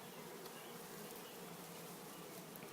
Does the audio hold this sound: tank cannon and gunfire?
no